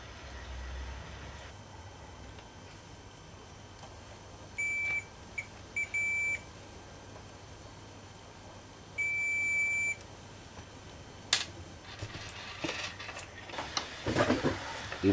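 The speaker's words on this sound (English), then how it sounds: "To do so, I use an ohm meter or any other kind of circuit tester." An ohm meter continuity tester checks USB cable wires, giving a few short high electronic beeps, one longer beep, then another sustained beep, over a quiet background with faint handling clicks near the end.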